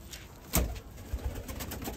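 Golden pigeons coo faintly in low murmurs, broken by a few soft thumps and rustles nearby, with no voices.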